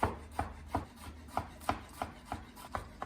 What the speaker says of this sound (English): Fold it up and then just a quick chop with a knife